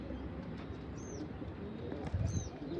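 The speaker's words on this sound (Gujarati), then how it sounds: "એમ તો ઉડવાવાળા છે આ બે કબૂતર" Pigeons, young Sarangpuri birds, coo softly over a low background murmur, with two short rising calls close by and faint rustling toward the end.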